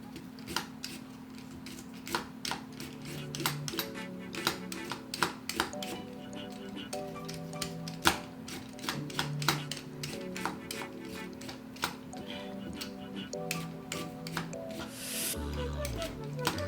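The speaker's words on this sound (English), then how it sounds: "So let me clean up the ginger." Fresh ginger being cleaned and peeled for a tomato drink, with sharp repeated scraping and cutting clicks close by, fairly loud and irregular, over a steady cooking hum and a final clatter.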